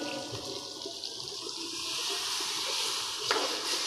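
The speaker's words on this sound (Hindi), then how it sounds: "तो अब मैं इसमें पानी डाल देती हूँ।" About a glass of water poured into a cooking pot of chicken kofta simmering in masala gravy, a steady close rushing splash with a brief clatter near the end.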